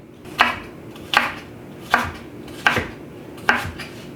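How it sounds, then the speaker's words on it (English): A knife chops through an apple on a board in a home kitchen, five sharp, evenly spaced cuts about every three-quarters of a second, close and clear with no talking. "So my apple is all cut up, ready to go."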